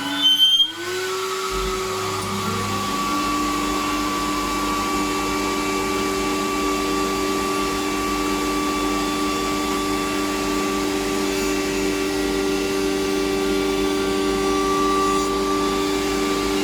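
A power tool runs while making a test cut in scrap MDF for a mitred keepsake box, spinning up quickly and then holding a loud, steady whine with a constant tonal hum for the rest of the run.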